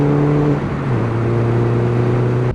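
An R56 John Cooper Works Mini fitted with a decat exhaust and AEM induction kit revs loudly, a strong steady engine drone that dips briefly in pitch and holds, close to the car, with no talk.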